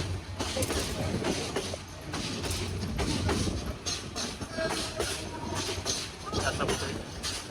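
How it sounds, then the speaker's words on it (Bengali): The Bijoy Express rolls into Mymensingh Junction with a continuous rumble and rattling wheel clatter, heard up close and at a steady volume throughout, while voices speak over the train noise. "দেখা লেট নিয়ে ময়মনসিংহ জংশনে পৌঁছায় বিজয় এক্সপ্রেস"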